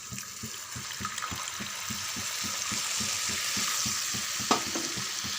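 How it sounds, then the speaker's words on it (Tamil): Tomato masala for kurma sizzles steadily in a pan while a spoon scrapes and stirs in a regular rhythm, with a brief clink near the end. "நல்லா ஒரு 2 செகண்ட் வதக்கி விடுங்க"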